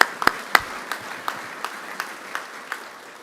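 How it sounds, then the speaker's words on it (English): Sparse, scattered handclaps from an audience at a business ethics awards ceremony, a few sharp claps spaced out and fading rather than a full ovation. "One more round of applause"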